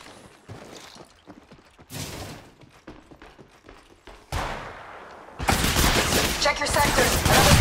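Gunfire from an Apex Legends match: scattered shots in the first half build into dense, sustained automatic bursts toward the end, loud and close, with brief in-game voice callouts mixed in.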